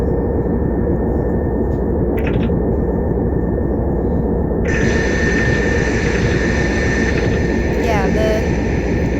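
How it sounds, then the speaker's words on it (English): A VTOL plane in Turboprop Flight Sim gives a steady, loud engine drone throughout. A higher whine joins partway through and holds to the end. "It's a vertical takeoff and landing plane, a VTOL."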